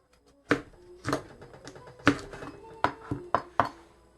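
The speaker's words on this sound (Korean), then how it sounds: "빨간 고추 한 개는 어, 이렇게 나중에 모양 내기 위해서 얇게 이렇게 썰어 놓겠습니다" One red chili pepper sliced thinly with a knife on a board, about eight sharp separate chops at an uneven pace, faint and close with no talking.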